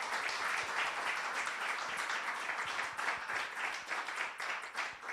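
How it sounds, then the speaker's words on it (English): An audience claps for a panel of four experts at an evening talk, a dense, even wash of applause held for several seconds. "let's give a big round of applause for our 4 experts tonight."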